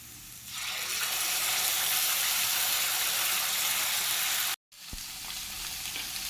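Spices land in a hot pan where pui leaf stalks have been frying, setting off a loud, hissing sizzle that swells within the first half second and holds steady, broken by one brief silent gap before it resumes.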